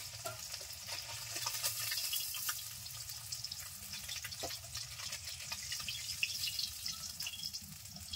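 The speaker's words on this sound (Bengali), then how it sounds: "মাছগুলো ভেজে নিয়েছি, এখন তুলে নিচ্ছি। তেল ছিটকাচ্ছে।" Hot oil spitting and sizzling in a pan as fried tengra fish are lifted out, a steady faint crackle with scattered sharp pops and small clinks, no voices.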